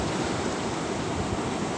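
Loud, constant roar of wind-driven morning sea surf over rocks, a dense wash of rushing noise with no pauses, close to the microphone.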